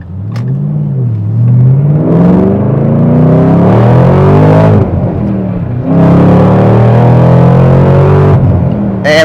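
A 2013 Ford Mustang Shelby GT500 accelerates hard through the gears from inside the car, its loud engine rising in pitch, dropping at each shift and climbing again in repeated surging pulls.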